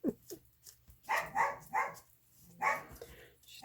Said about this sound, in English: She's barking, telling her dad that she can't get in here.